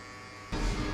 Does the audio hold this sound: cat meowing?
no